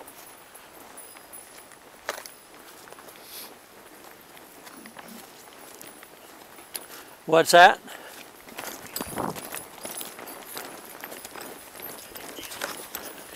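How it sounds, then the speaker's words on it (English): Horse ridden outdoors in Smithville, Tennessee: soft, irregular hoof steps carry on through the clip, with a brief louder burst of movement partway in, and a rider speaks briefly. "Let me slow my horse down."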